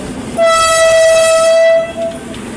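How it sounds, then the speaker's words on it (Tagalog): A heavily loaded train passes in Barangay Sugod, Lopez, Quezon, sounding a long, loud, steady horn blast for well over a second over the rumble of rail cars, then fading to continued rolling noise. "Ayun, dumaan ang tren oh."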